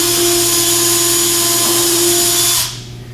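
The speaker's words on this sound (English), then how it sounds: "as long as I just continue to leave that drill running, it'll come right back out" A cordless drill boring a hole, running at a loud steady whine with a constant motor hum before it stops near the end and the sound drops away.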